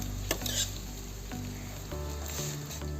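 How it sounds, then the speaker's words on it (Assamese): Vermicelli for sweet seviyan fries gently over a low flame, giving a soft continuous sizzle with a few light scrapes and clinks from stirring in the pan. "মই এইখিনি ল' ফ্লেমত ভাজিছোঁ"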